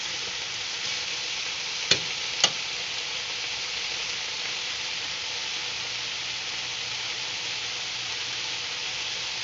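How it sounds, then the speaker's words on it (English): Pork chops fry in a pan with a steady, close hiss of sizzling oil throughout, broken by two sharp clicks just before the two-second mark. No one speaks. "So just cooking pork chops"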